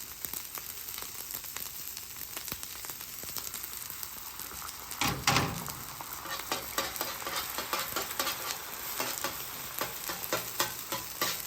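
Rice and eggs fry on a Blackstone griddle with a steady, fairly soft sizzle. Scattered scraping strokes from stirring run through it, and no one talks.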